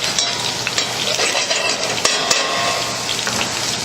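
Sliced mushrooms sizzle and spit in rendered bacon fat as a spoon stirs them around the pan for chicken chasseur. The frying is steady and close, with occasional scrapes and clinks.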